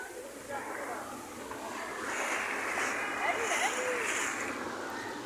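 Sea waves wash and splash against the waterfront at Muttrah Corniche in Muscat, Oman, a steady broadband surf rush that swells slightly louder midway, with a voice faintly present beneath.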